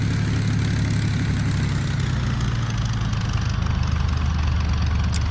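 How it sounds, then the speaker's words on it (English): A P-51D Mustang's piston engine runs up in a WW2 gunship flight game, a steady, loud, low droning rumble that holds at a constant level throughout with no talk over it. "so I can throttle up and run up the engine if I want."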